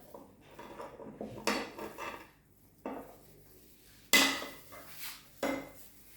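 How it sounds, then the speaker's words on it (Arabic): Small potatoes being rubbed and tossed with marinade by hand in a baking tray, giving a few separate bursts of scraping, rattling and clinking against the tray, fairly close, with quiet gaps between them. "هحاول اخلطها كده مع التتبيله الحلوه"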